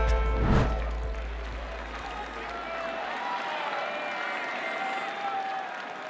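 Crowd at a Roland-Garros men's quarter-final tennis match in 2012, a stunned murmur and scattered applause with a loud thump at the start, settling into a steady crowd hum under a commentator's voice.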